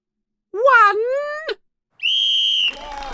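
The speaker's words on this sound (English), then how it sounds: "Wait for my whistle." A referee's whistle sound effect starting a Quidditch match in a story reading gives one steady, shrill blast of under a second. A short swooping voice-like sound comes before it.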